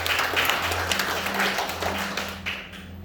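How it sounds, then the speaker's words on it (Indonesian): A church congregation claps together in worship, a moderately loud patter of many hands that carries on for a few seconds over a low sustained hum. "Tepuk tangan untuk memuliakan Tuhan."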